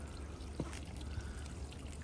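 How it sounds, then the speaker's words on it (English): A garden water feature runs beneath stone steps beside a rockery, giving a faint, steady trickle of flowing water with soft broadband wash and no talk. "lovely water feature as we come down. It actually runs under the steps."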